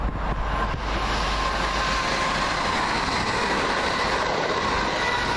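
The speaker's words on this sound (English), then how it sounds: "this is a Southern Railway service off Milton Keynes Central, going to South Croydon" A Southern Railway passenger train from Milton Keynes Central to South Croydon passing through Kings Langley station: a loud, continuous broadband rush and rumble of the train going by close, with no talking.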